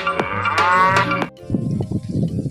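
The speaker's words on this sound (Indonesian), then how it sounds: "ada hewan sapi." Two loud, drawn-out cow moos close by, the second rougher and lower, with no speech over them.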